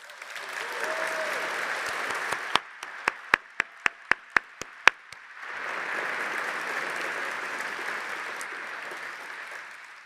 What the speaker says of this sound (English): go ahead and give yourselves a rousing round of applause